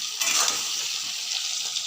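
Chopped onion and whole garlic cloves hit hot oil in a pan alongside frying potatoes, giving a brief, close, hissing sizzle with a faint stir near the start.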